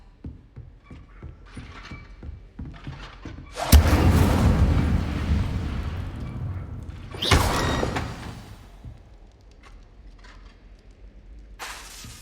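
The Incendio fire spell cast in Hogwarts Legacy, two loud whooshing blasts of flame several seconds apart, each bursting suddenly then trailing off as a roaring crackle, amid softer clicks and game effects.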